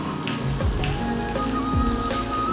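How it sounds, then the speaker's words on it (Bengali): Heavy rain pours steadily outdoors, a dense continuous patter close by, with faint background tones and no talking. "আজকে বৃষ্টি হচ্ছে, এত মানে প্রচণ্ড হারে একটু বৃষ্টি হচ্ছে"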